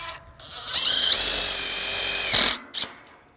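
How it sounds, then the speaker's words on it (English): An impact drill drives a self-tapping screw into a continuous fence rail outdoors, giving a rising high whine that holds for about two seconds before cutting off, then a brief short burst. "I've got our self-tapping screws with my impact drill"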